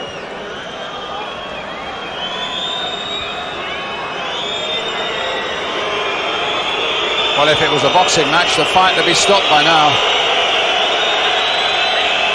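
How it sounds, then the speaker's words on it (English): Belgian football crowd at a Standard Liege versus Arsenal European Cup Winners' Cup tie, a steady roar of thousands that swells and grows more agitated with bursts of whistling and jeering, heard under continuous commentary. "Just listen to the Belgian crowd."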